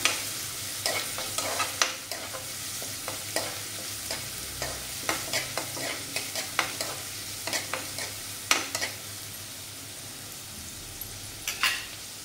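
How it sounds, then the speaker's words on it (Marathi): Chopped onions sautéing in a pan for samosa filling, a soft steady sizzle broken by frequent scraping stirs of a spoon against the pan, close and fairly quiet, with no talk. "चांगलं परतून घेऊया।"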